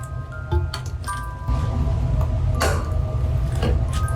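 Cans of fermented surströmming herring are pried open outdoors, giving faint creaking metal and a few small clinks and clicks over a low steady background hum.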